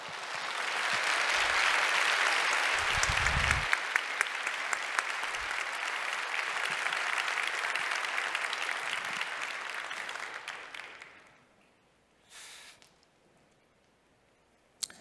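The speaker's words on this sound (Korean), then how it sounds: "우리 김은창 목사님 나오실 때에 우리 큰 박수로 환영해 주시길 바랍니다" A church congregation at a Sunday service claps to welcome the pastor, dense sustained applause that fades after about ten seconds into a quiet room with a brief rustle.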